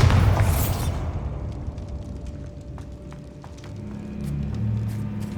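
A Bombarda spell blasts in Hogwarts Legacy with a loud broadband explosion at the start that settles into a low rumbling tail and faint scattered debris clicks.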